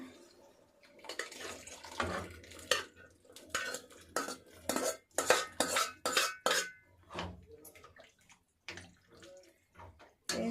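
Spoon stirring and scraping red lentils with fried onion and tomato in a cooking pot, a run of clattering metallic knocks and wet scrapes in irregular bursts.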